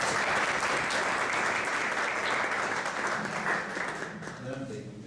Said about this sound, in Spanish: pidiéndoles que les recibamos con un fuerte aplauso a Lourdes